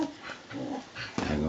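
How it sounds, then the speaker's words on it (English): A dog whimpers and yips softly in short, high whines at close range, with a person's voice talking nearby. "Tim, stop, dog. Say, go to bed."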